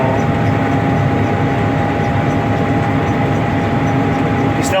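A combine harvester runs steadily with its cylinder raised to 850 rpm, a loud, continuous heavy engine and machinery drone with a low rumble and a constant whine, heard from up close and without talk.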